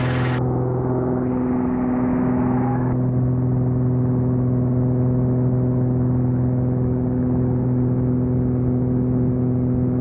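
The engine of a Lake amphibious seaplane drones loud and steady as it accelerates, with a strong humming tone that holds for the whole stretch and no talking.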